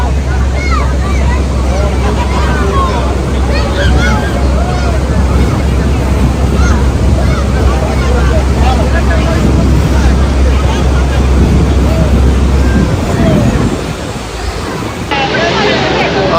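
Tour boat ride on the water at Niagara Falls, heavy roaring spray and rushing water with strong wind buffeting the microphone throughout, voices faintly mixed in before the roar briefly dips near the end.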